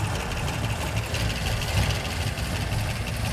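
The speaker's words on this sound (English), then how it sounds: "And it's idling." A Ford Econoline van engine idling roughly after long abandonment, a loud, close, steady lopey rumble with slight uneven pulsing and no voices.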